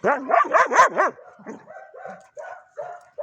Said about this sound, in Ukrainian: Паша, як ти гавкаєш